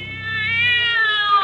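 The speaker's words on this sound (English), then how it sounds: "Cleary watched in silent fascination as the cat screamed and leaped against the wall." A cat screams in a long, loud, wavering yowl that rises and holds, heard alone and up close as a sound effect in a 1945 old-time radio horror drama.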